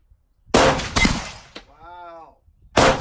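Loud gunshots ring against an Action Target PT steel target outdoors, two sharp blasts close together followed by a metallic ringing tone that fades, then another shot.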